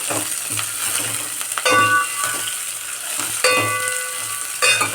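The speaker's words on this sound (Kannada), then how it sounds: "ಎಲ್ಲನ ಈರುಳ್ಳಿಯ ಹಸಿ ವಾಸನೆ ಹೋಗೋವರೆಗೂ ಹುರ್ಕೊಬೇಕಾಗುತ್ತೆ ಎಣ್ಣೆಯಲ್ಲಿ" Onions and curry leaves frying in hot oil for a sambar tempering, a steady close sizzle and crackle with bursts of stirring and clinking against the pan throughout.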